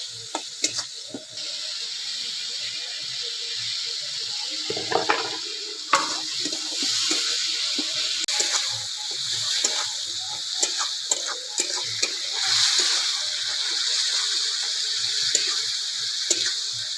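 Bihari-style egg curry masala sizzling steadily in a pan as water is added, with continuous stirring and scraping and occasional sharper clinks over the sizzle.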